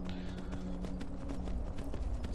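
Horse hooves gallop in the Skyrim video game, a rapid continuous clip-clop of close, steady hoofbeats with no voices over them.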